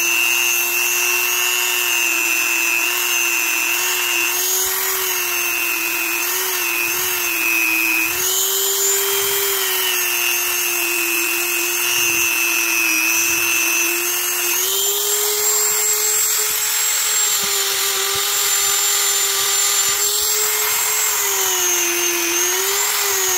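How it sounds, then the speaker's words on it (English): A Dremel rotary tool polishes the rivets of a Hammer brand fixed-blade knife with polishing compound, giving a steady high whine that dips and rises in pitch as the tool presses and lifts, with scraping buffing noise throughout and no talk. "I hit the rivets with the polishing compound and the Dremel tool"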